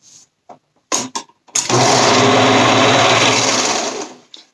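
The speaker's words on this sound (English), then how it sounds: "we're going to take the leg cuffs and fold them in half, right sides together, and sew it." A sewing machine stitches the folded leg cuffs of a romper in one loud, steady run of about three seconds, after a few short bursts of starting and handling sounds.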